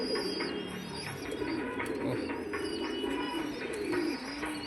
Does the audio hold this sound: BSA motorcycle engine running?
no